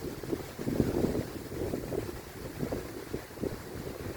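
Strong wind gusts roaring outdoors on a Pacific island in the Philippines, a steady low rumble of buffeting microphone noise that surges and swells in waves, with no talking.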